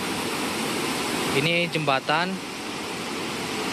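Waterfall Laipendaro below a bridge and bend in the road, its steady broadband roar of falling water filling the whole clip, with someone talking briefly over it.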